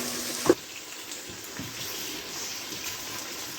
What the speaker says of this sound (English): So I wash my rice.